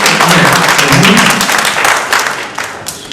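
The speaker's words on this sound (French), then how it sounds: "Applaudissez-le pour ça." Applause in a French spelling contest studio for a young contestant, a dense wash of many hands clapping steadily, loud and close, fading out over about three seconds.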